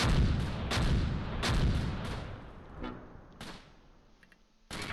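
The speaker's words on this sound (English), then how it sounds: "Lots of mortars." Mortar and artillery fire in the World War II strategy game Close Combat: Gateway to Caen, a rapid series of loud, booming blasts that gradually taper off before one more burst at the end.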